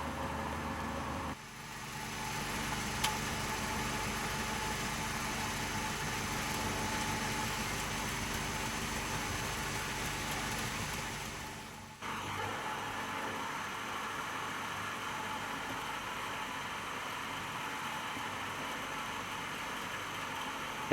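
A bandsaw cuts through square metal stock for machining soft jaws, giving a loud, steady, hissing grind for about ten seconds before dropping abruptly to a quieter, lower machine hum.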